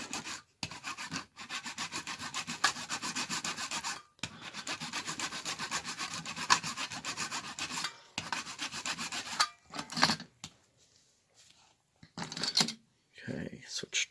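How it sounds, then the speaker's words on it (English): A small blade scrapes and rasps across wooden flatcar deck boards in rapid back-and-forth strokes, close and steady with brief pauses, trailing off into scattered light scratches near the end. "I'm rocking the blade here just a little bit so that some of these board delineations are a little bit deeper"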